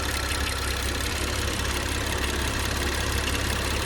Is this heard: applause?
no